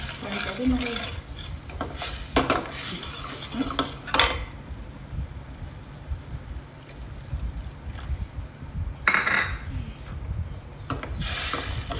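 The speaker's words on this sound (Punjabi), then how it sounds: "ਨਮਕ ਥੋੜੀ ਜੀ ਲਾਲ ਮਿਰਚ ਚੰਗੀ ਤਰ੍ਹਾਂ ਨਾਲ ਮਿਕਸ ਕਰ ਦੇਣਾ" Spices being stirred in a pan with turmeric, dry coriander, salt and red chili for a palak paneer dish, heard as scattered scraping clinks and clatters of a utensil against cookware over a steady low background.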